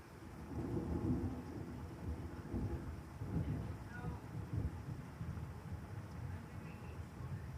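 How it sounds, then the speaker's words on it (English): A strong night-time thunderstorm in Sioux Falls, South Dakota: steady rain with low, rolling thunder rumbling throughout, fairly loud and continuous with no voices. "We have a strong thunderstorm here."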